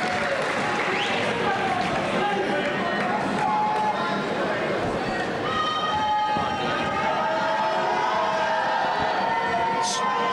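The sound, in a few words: Cambridge crowd cheering at basketball game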